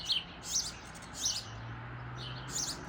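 Small birds chirp in spring in short, bright bursts at intervals, fairly close, over a soft steady background hum.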